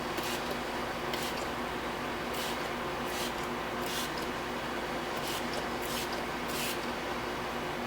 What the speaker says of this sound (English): You're going to apply the spray like so.